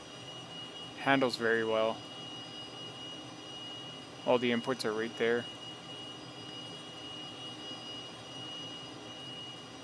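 A Cessna T-37B jet engine in a flight simulator game makes a steady, moderate droning hum with a thin high whine, constant throughout while someone briefly speaks over it twice.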